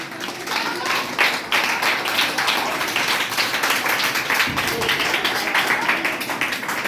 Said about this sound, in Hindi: तो अरस्तु के लिए ताली बजाइए आप लोग